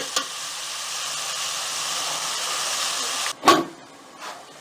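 Onions and tomatoes fry in a pan for chicken white karahi, with a steady, close hiss and sizzle, followed near the end by a sharp clatter of a lid or utensil.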